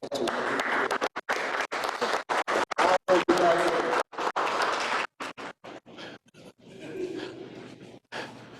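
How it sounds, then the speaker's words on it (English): Audience at a heritage dinner applauding a person honored publicly: clapping from a crowd, loud but broken up by frequent dropouts, fading into quieter room sound toward the end. "give him a big round of applause"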